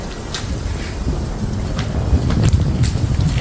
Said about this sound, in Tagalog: Sa lakas ng hangin dito sa lugar namin.